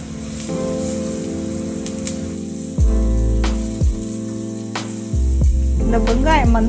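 Onions sauté in hot oil for chicken kothu roti with a soft, continuous sizzle and occasional crackles, under steady background music with low, dropping tones.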